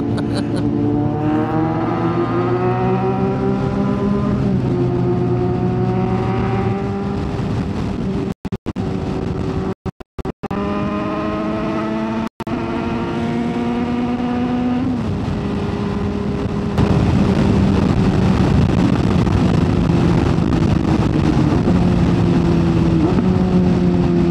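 Vehicle exhaust captured close-up on a DJI Mic Mini at -12 gain: a loud, continuous engine drone that rises and falls in pitch with revving, with a few brief dropouts and a louder stretch near the end.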